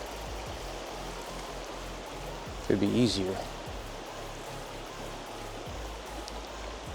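Winter wilderness river flowing in a steady, moderate wash close by, with a brief burst of a man's speech in the middle over the running water.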